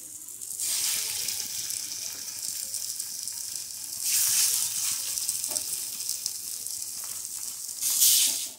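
Fish pieces hit hot oil on a flat griddle, a bright hissing sizzle that swells as each piece is laid down and settles to a steady crackle, with a louder surge near the end.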